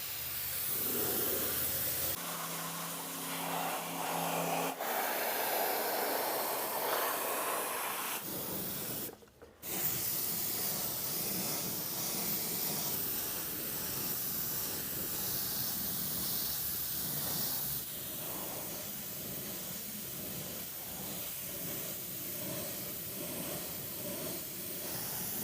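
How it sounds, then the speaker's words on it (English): Spray gun hissing steadily while painting the wheel openings of a 1966 Mustang during a spot panel basecoat/clearcoat job, a loud continuous close spray with one brief pause in the middle. "Let's go ahead and spray these wheel openings and then we'll move on to this quarter panel."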